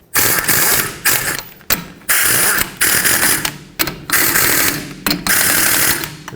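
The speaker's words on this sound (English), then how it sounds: "What I'm going to do now is put on 2 lug nuts" Bursts of ratcheting from a ratchet wrench running lug nuts onto the rear wheel of a 2009-2013 Honda Fit during a brake job, loud and close, in about six quick runs separated by short pauses.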